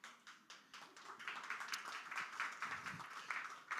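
Dancers clap at a music and dance event, a crowd of hand claps in quick, uneven bursts that rise and fall, fairly close and continuous.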